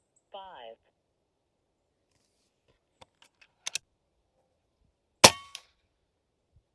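Air Venturi Avenge-X .25 bullpup PCP air rifle, regulated, with a 400cc bottle, shooting 29.5-grain pellets at 56 yards: a few sharp, dry cracks and clicks, the loudest near the end with a brief metallic ring, after a short tonal chirp.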